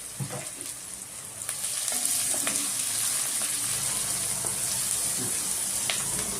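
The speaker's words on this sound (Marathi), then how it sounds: "खूप नाही परतायचा कांदा सुद्धा अगदी थोडाच परतायचा कांदा" Onion sautéing in a pan with a pinch of salt, for a Bengali-style brinjal curry: a steady, close sizzling hiss that swells slightly after the first couple of seconds, with light stirring clicks and no talking.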